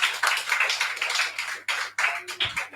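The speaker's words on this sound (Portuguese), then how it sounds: "Nós aplaudimos o Senhor Jesus." A church congregation claps in praise, a dense burst of applause that swells and dips in waves with brief gaps, close and fairly loud, without talk.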